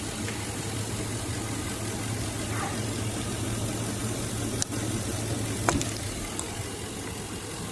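A truck's engine idles steadily after its mass air flow sensor is unplugged, a constant low rumble with a slight roughness and a couple of brief clicks, no voices.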